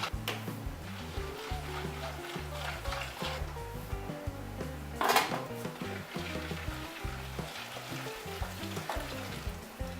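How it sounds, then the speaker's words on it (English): White sugar is stirred into a hot mixture in a bowl for brownie batter, a steady scraping and swishing with faint sizzling and a brief clink of utensils partway through. "I'm going to add it in half a cup at a time, and that will just help it to melt down easily"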